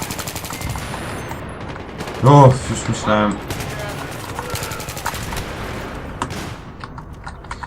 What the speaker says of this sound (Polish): Wszędzie granaty, wybuchy, strzały, coś mnie trafia.